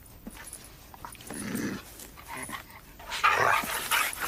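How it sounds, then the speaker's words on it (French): A dog barks and growls in a French film scene, a few sharp yips and barks rising louder toward the end over faint background noise. "Sortez ce chien d'ici."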